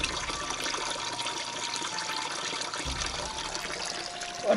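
Fresh water running steadily from a public drinking fountain spout at Bica da Aguinha in Vila Nova de Milfontes, a constant close trickle and splash with no voices until a brief knock at the end.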